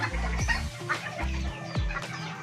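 Japanese bantam chickens cluck up close in a steady run of short, low, throaty calls, loud and repeated, with no talking over them.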